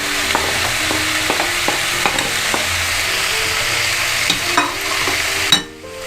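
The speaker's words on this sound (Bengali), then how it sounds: "এবার সমস্ত সবজি মশলা তেলের মধ্যে ভালো করে মিশিয়ে নিতে হবে।" Vegetables with Kashmiri chilli flakes, turmeric, chilli powder and sugar are stirred in hot oil for a grilled sandwich filling. A steady sizzle runs under regular spatula clicks and scrapes near the pan, then drops abruptly near the end.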